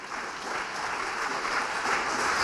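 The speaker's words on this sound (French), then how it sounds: "Acclame très très très très fort Jésus" A congregation at a worship service claps and cheers loudly for Jesus, a dense, sustained roar of applause that carries on unbroken and grows slightly stronger toward the end.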